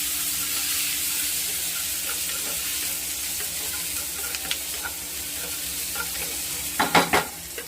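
Onions and tomatoes stir-frying together in a pan for katla fish mustard curry, a steady loud sizzle with scattered spatula scrapes that turn into a quick cluster of clatters near the end.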